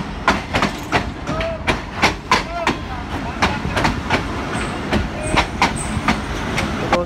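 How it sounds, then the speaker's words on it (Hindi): Khyber Mail passenger train pulling out of a rainy station at Mandi Bahauddin, with rhythmic wheel clacks and rail thumps repeating steadily at close range, plus brief metallic squeals over a constant rumble. "मेरे लोकोमोटिव तक पहुंचने से पहले ही ट्रेन निकल पड़ी।"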